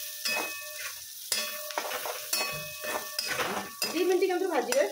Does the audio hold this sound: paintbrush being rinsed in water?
no